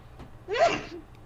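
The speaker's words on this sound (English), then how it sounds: "You're sneezing." A single short, sharp human sneeze in a radio studio setting, close and loud, with a brief breathy intake before it.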